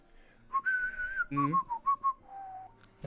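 Whistling that imitates a Scottish horn from the 1967 Casino Royale, a short melodic phrase of sustained and bouncing notes heard alone and close, followed by a brief knock at the end.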